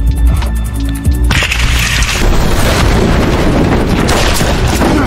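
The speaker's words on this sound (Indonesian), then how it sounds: "Ledakan cahaya itu membuat Mora punya celah untuk melakukan aksinya" A sudden heavy boom of a flash grenade erupts after a second of quieter noise, followed by a sustained roaring, crackling wash that fills the rest of the clip.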